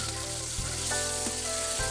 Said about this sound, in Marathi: त्यात आपण ह्या मिरच्या सगळ्या टाकून द्यायच्या